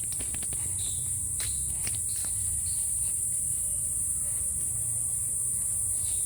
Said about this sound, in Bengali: এদিকে অনেক ঝিঝি পোকার ডাকে শেষ হয়ে যাচ্ছে